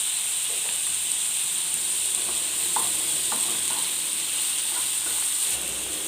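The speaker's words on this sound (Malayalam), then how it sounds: "നമ്മുടെ സവോള വഴണ്ട് വന്നിട്ടുണ്ട്" Onions sautéing in a pan with salt, a constant close, bright sizzle with faint occasional stirring clicks, steady throughout with no voices.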